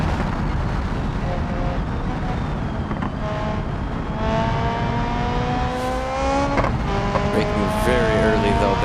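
An open-wheel race car in the BeamNG driving game, its engine winding out through rising, sustained revs over a dense rumble, with a brief shift dip and continued climbing pitch.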